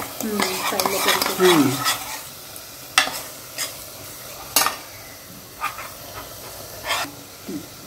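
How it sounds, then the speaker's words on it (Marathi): Spiced masala for a mutton curry is stirred and sautéed in hot oil, with a low sizzle. A spoon scrapes the pan in close, sharp strokes, several spaced out over several seconds, and no one talks. "तेल सुटेपर्यंत मसाल्याला आपण छान परतूया."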